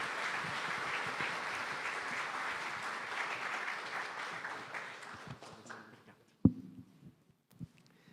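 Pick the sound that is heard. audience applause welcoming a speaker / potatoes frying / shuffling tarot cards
audience applause welcoming a speaker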